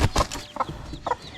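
A few brief cheeping calls from chicks of fighting-cock stock being raised, coming in short separate bursts over low background noise, with no talk.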